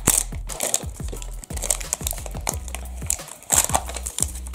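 A LOL Surprise Dance series doll ball is opened by hand, giving a rapid series of close crinkling, crackling plastic and wrapper sounds with sharp clicks and tearing bursts, alone without talk.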